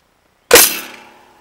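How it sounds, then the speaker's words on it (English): An XXL toy bazooka fires a foam rocket from the shoulder: one sudden, loud pop right up close, then a brief trailing decay in otherwise silent surroundings. "I'm going to put it up to my shoulder, and I'm going to shoot it straight ahead now"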